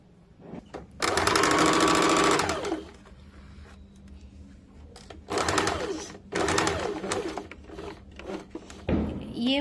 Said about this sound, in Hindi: अब इसमें भी हम लोग पिन लगा के इस प्रकार से सिलाई कर लेंगे